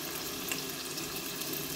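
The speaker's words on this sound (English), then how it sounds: "I'm just going to place each one inside the oil" Six samosa patties fry in hot oil in a pot, giving a soft, even sizzle and crackle that runs steadily throughout without any talking.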